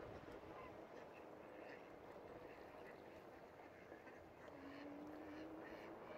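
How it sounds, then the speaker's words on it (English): A flock of ducks quacking out on the water where egrets and a swan are nearby, faint and distant calls over steady wind and ambient noise, with a brief honk-like tone late in the clip. "Oh, a whole bunch of ducks."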